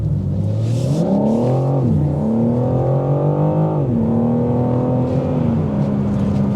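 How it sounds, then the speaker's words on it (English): A 2025 BMW M4 Competition xDrive convertible with the top up sends a loud, continuous exhaust note through the cabin, rising and falling in pitch with several throttle swells and gear changes and no voices. "With the top up, let's see if we can hear that exhaust note."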